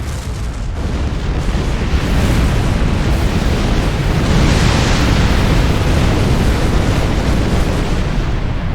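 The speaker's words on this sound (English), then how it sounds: "You are so quick to blow things up." Detonated charges on a planet's surface go off in the Star Trek Online video game, making a loud, sustained rumbling explosion that roars on for several seconds without letting up.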